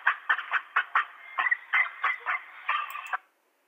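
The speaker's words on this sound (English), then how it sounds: "here's our YouTube video that actually shows a little goose parade" Geese honk in a rapid string of about a dozen nasal calls from a goose parade, played back from a video, then stop abruptly into silence.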